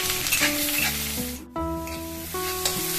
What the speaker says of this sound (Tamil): வெங்காயமும் வரமிளகாவே ஆட் பண்ணிக்கலாம்.